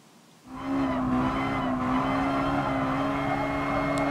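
Mazda Miata racing at Suzuka in Gran Turismo Sport, its engine whining at a steady high pitch as it accelerates and holds revs, loud and continuous.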